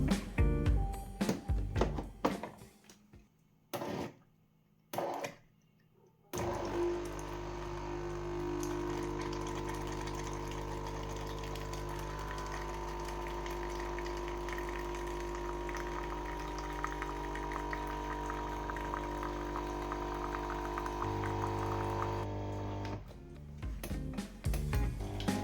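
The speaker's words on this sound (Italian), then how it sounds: "Accendiamo la caffettiera e abbiamo un ciclo di erogazione senza capsule." A capsule coffee machine runs a brew cycle with no capsule, pumping citric acid descaling solution in one long, steady humming drone after a few short clicks and stops, then cutting off near the end.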